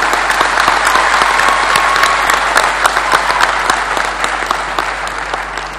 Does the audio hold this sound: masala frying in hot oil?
no